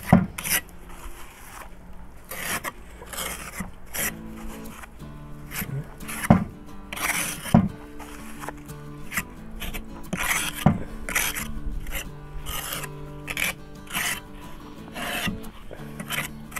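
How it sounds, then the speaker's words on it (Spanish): Steady rhythmic rasping of sandpaper scraping a cement flowerpot, repeated strokes in an uneven rhythm, fairly close and moderately loud. "ya pasamos la lija"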